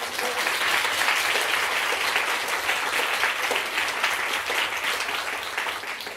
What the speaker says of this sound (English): Can we give our honored guest a round of applause?